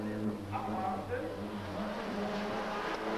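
A rally car engine roars during the 1991 ADAC Rallye Deutschland in heavy rain, steady and moderately loud beneath someone commentator's continuous talk.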